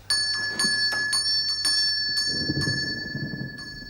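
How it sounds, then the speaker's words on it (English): A bell rings repeatedly in quick, rapid strokes, bright and insistent, fairly close, with a low rumble rising toward the end. "who's ringing the bell?"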